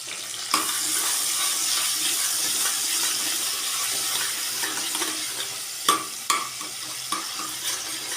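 Gunda pieces fry in hot oil after a spoonful of yogurt goes in, giving a steady, even sizzle broken by a few sharp clicks of a stirring spoon against the pan.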